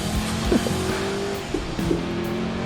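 Racing car engine drones steadily with tyre squeal in Assetto Corsa, a 1966 Daytona 24-hour endurance race in the sim, a sustained tonal whine with brief pitch shifts under continuous track noise.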